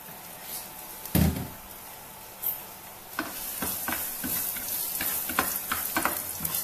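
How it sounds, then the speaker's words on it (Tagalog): Garlic sautéing in a pan for menudo, a steady loud sizzle and frying hiss starting partway through, with a few knocks and clatters of utensils or cookware before it. "Ito po, magigisa na po tayo."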